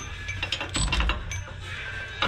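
A socket ratchet wrench clicks in quick bursts while loosening a bolt on a 2016 Chevy Silverado, close up with metallic ratcheting and a louder clatter near the end.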